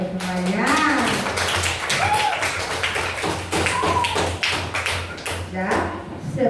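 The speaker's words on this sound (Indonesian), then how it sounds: "tepuk tangan dulu ya buat ibu semuanya" A class of children clapping hands together for their teacher in a classroom, a dense run of taps with voices and chatter mixed in throughout.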